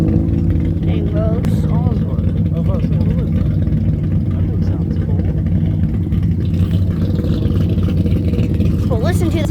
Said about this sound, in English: Well, listen to that truck.